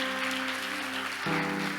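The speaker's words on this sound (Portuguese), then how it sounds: "Pode aplaudir o Senhor por isso." A church congregation applauds during a Sunday service, a soft, steady wash of many hands clapping at a distance, with a sustained tone and faint background sounds underneath.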